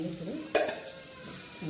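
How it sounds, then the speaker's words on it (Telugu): Kurma curry simmering in a pot with a spoon stirring through it, a short scrape and clatter near the middle over a low, steady bubbling sizzle, close and fairly quiet. "కుర్మా కూర ఉడుకుతూ ఉందండి"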